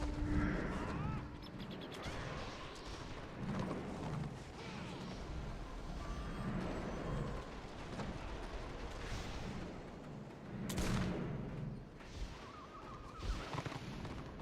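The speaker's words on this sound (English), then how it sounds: "Ooh, cannon." Cannon fire in the Warhammer Online game, heavy booms and rumbling blasts repeating across a dense, noisy battle soundscape, fairly faint overall, with no voices over it.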